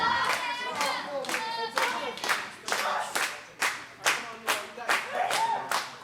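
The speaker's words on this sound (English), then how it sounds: "Crowd behind Amanda." Crowd at an underground wrestling match claps in rhythmic bursts, a steady run of sharp, fairly close claps with a little cheering mixed in and no clear speech.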